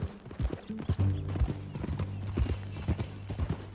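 Horse hooves clip-clop in an uneven, steady gait in Red Dead Redemption 2, a close, rhythmic series of dull thuds with some tack jingle, no talking.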